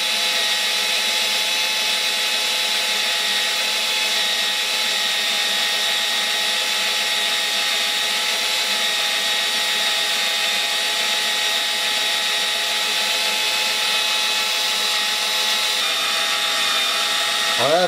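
A drill bores holes in wood while making dowels, the bit lubricated and slightly dull; a steady, loud high-pitched whine runs continuously with no break and no voices.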